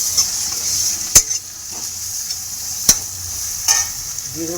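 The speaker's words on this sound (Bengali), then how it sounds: "পেঁয়াজটা একটু লাল লাল করে আমার ভেজে নিতে হবে।" A steady sizzle of onion, garlic and ginger paste frying in a hot pan, broken by a few sharp clicks of a spoon stirring against the metal.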